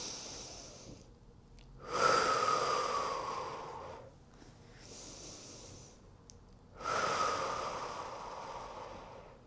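Long, slow breaths pushed out during a Pilates stretch, two drawn-out exhales with quieter inhales between, close and airy, no talking.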